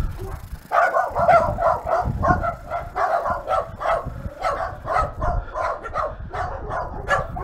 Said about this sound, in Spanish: Está lleno de perritos, de pititos.